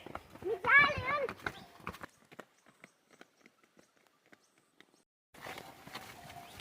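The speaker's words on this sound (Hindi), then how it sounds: "जल्दी चलो घोड़े आ गए।" Horses walk along a mountain path, their hooves clip-clopping in a series of light separate knocks that fade and thin out. Voices talk near the start and return at the end.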